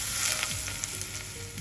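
Green chili peppers snipped into short pieces, seeds included, frying in hot oil in a wok, giving a steady, close, bright sizzle with no voices.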